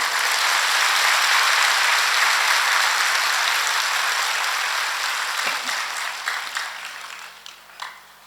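Audience applause at a saints' gathering, a dense, loud wash of clapping that holds steady and then thins out and fades toward the end.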